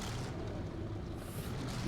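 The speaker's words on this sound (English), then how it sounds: "let's actually turn on engine and to see how it sounds" An E100/E75 German heavy tank engine in Gates of Hell runs with a constant deep, rough rumble, loud and close and steady throughout, with no talking over it.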